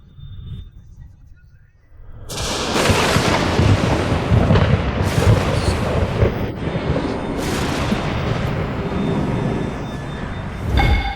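Heavenly lightning being absorbed in an animated fantasy series, heard as a massive rolling thunder rumble that bursts in after a quieter lead-in and sustains loudly with several sharp crackling peaks until the end.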